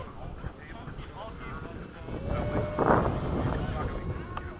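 An FMS 80mm Hawk RC model jet passes overhead at a busy flying field, its electric ducted-fan whoosh swelling and fading among wind noise, with voices talking throughout.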